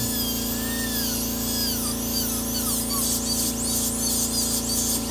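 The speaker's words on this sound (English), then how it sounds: "So when you have to smoothen the margin, we can just run the burr like this." A dental burr runs along a tooth preparation margin to smooth it, giving a steady, continuous high-pitched whine with a constant motor hum underneath, close and unbroken for the whole stretch.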